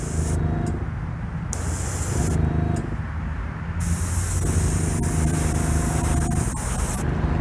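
Spray gun laying a light tack coat of pink paint inside and outside a diecast model body, giving several loud bursts of airy hiss separated by short pauses over a steady background hum.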